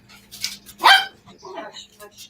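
A dog barks outdoors, with a few short yips and one louder bark mixed among people talking nearby.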